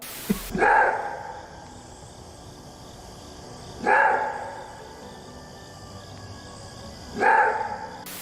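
Three loud, hoarse barking roars from a maned wolf, spaced about three seconds apart, each one a single rough call rising over a quiet outdoor background.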